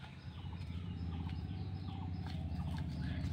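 A bird caught in a net gives rapid, repeated, harsh gobbling calls, close and fairly loud, in a continuous distressed stream.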